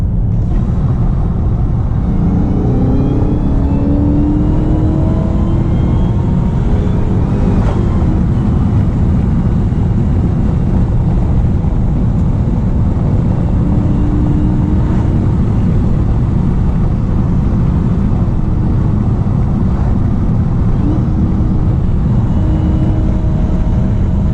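A 2020 Dodge Charger Hellcat widebody lowered on H&R springs drives through corners, producing a continuous loud engine and road rumble that swells slightly in places, with no talking.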